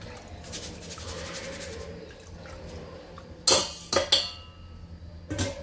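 Rice is washed with water in a cookpot, a soft swishing and trickling of water followed by a few sharp clinks of the pot, close and fairly quiet with no talk.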